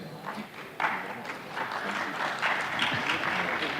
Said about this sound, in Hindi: सिर्फ थैंक यू पे इतनी तालियां बजने लगी